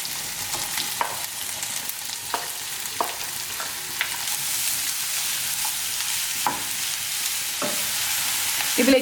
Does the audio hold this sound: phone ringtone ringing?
no